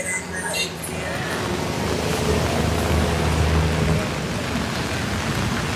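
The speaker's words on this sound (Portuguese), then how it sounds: "Com a chuva e o trânsito aqui da Avenida Atlântica." Steady rain and passing traffic along Avenida Atlântica in Copacabana form a dense, continuous hiss and rumble, loud and close, with no talking.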